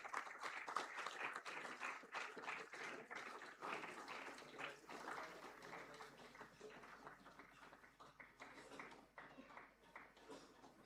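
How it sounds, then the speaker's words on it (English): Audience applause at a school award ceremony, a steady wash of many hands clapping that runs the whole stretch at moderate, slightly distant level, with faint murmurs mixed in. "can we please have a huge round of applause?"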